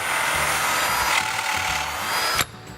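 Drill bit boring into wood, guided back into a pre-drilled hole while making a table: a steady, loud grinding whir with rough scraping texture, ending in a sharp snap as the bit pulls free.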